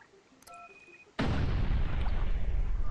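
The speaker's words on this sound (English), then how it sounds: "Holy mother of explosions." In the video game Dying Light, a few short electronic beeps from a detonator lead into a sudden loud explosion whose heavy, rumbling blast carries on for a couple of seconds.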